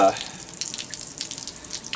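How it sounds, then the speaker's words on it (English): Water gushing out of an RV water heater tank during flushing, a steady hissing rush of flowing water heard close, with a short faint tone at the start. "So we've been flushing the tank for about 5 minutes now."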